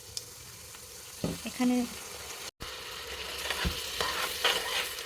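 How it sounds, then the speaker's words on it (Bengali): Ginger and garlic paste frying with browned onions for mutton curry, a sizzle with stirring scrapes and a couple of sharp spoon knocks, close, with a brief spoken word. "আদা এবং রসুন বাটাটাকে ভালো করে ভেজে নিতে হবে, যাতে করে কাঁচা গন্ধটা চলে যায়।"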